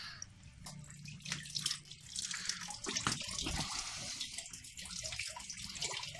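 Tap water runs and splashes while a lead seal is washed under it, a close, continuous hiss broken by irregular drips and splatters.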